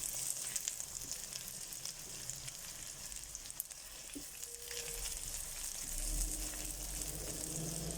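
Onions fry steadily in a pan for chicken noodle soup, a continuous close sizzle and crackle with occasional stirring scrapes, no talking.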